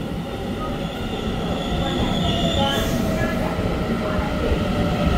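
Ten-car silver-and-green EMU900 electric multiple unit commuter train pulling out of a station on Taiwan's Western Line, a loud close rolling rumble with wheel squeal and rail noise throughout.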